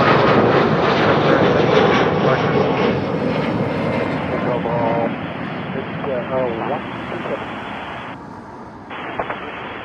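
An airliner takes off at Toronto Pearson airport with a loud, sustained jet engine roar that slowly fades and lowers in pitch as it climbs away, while radio chatter from air traffic control plays over it.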